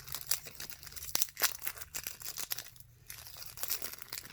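Crinkly plastic wrapper of a 5 gum Strawberry Flood pack being torn open and crumpled by hand, a close, quiet run of rustles and sharp tearing crackles with short pauses.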